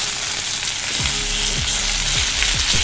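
A pork dish reheating in a pan hisses with a steady, loud sizzle, with soft stirring scrapes repeating through it and no voices.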